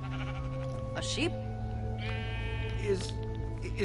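A sheep bleats a few times in the video game Minecraft Story Mode, short wavering calls heard over a soft background music bed.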